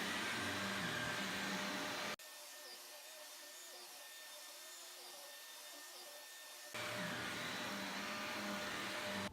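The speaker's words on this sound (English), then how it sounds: "Okay, vacuum run" A vacuum cleaner runs with a steady, loud whine over a recently repaired carpet, drops to a quieter hum for several seconds, then surges back to full power.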